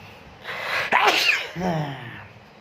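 One loud sneeze sounds close by with a sharp burst of breath. A short voiced exhale trails off after it.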